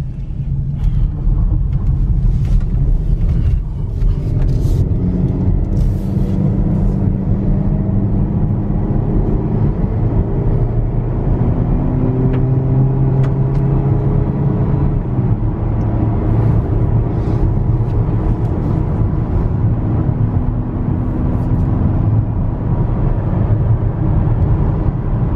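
A 2016 Chevy Malibu LT, sold with a salvage repairable title, drives steadily, its engine and road rumble droning loud and continuous from inside the cabin with no one talking.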